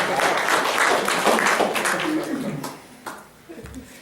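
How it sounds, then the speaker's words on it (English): Church congregation applauding, a dense burst of clapping that fades out after a couple of seconds, followed by a few scattered claps. "Let's clap for that."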